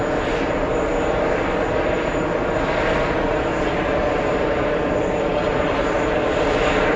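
A JetBlue Airbus A321 XLR jet airliner roars steadily at an airport, its broadband engine noise loud and continuous throughout with no break.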